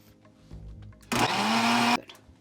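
A kitchen blender grinds cumin seeds in one loud, harsh whirring burst lasting under a second, starting abruptly and cutting off sharply, with quieter rustling before and after.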